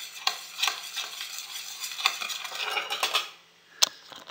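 Sushi rice being stirred with its seasoning in a pan, a close spoon scraping and rustling against the metal with a few sharp clinks and a brief pause near the end.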